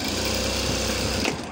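A sewing machine runs a line of stitches on a blouse button plate, a fast close whirring buzz with a regular needle pulse that stops abruptly near the end.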